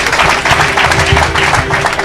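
A church congregation clapping for the Lord, dense steady applause filling the space with crowd noise throughout.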